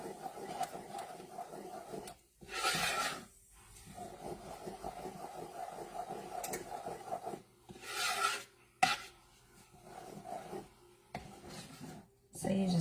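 A spoon scrapes and stirs chia seeds through a mixture in a bowl, making quiet gritty rasping strokes that come in uneven bursts with short pauses between them.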